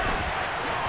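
Crowd noise from an American football video game, a steady dense roar swelling as the home fans get into a big third-down play, continuous and loud for the full second.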